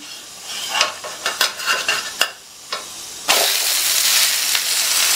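Sago (javvarisi) dosa cooking in a pan, with a few sharp scraping taps from flipping, then a loud, steady hiss of sizzling as the flipped side hits the hot surface.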